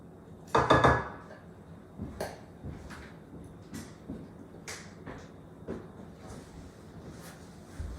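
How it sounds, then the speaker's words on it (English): Pumpkin is scooped into a bowl of dry mixture for pumpkin bread, with a few sharp spoon clinks and scrapes against the bowl spaced irregularly, close and fairly quiet. "Scoop all the good pumpkin into the bowl."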